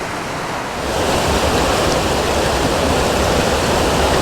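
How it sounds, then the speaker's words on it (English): Water rushes down a stream in Grindsbrook Clough, a steady, loud, broadband roar of flowing water that strengthens slightly after the first second and continues unbroken. "So much water coming down."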